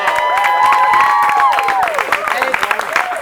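Audience at a Paralympic Games event in Los Angeles breaks into a round of applause and cheering, a continuous wash of clapping with a whistle-like tone above it, dense and close.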